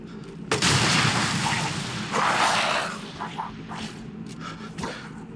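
Grenade launcher fire in the video game Resident Evil Village, a couple of loud booming blasts with a rumbling tail, followed by quieter gameplay noise.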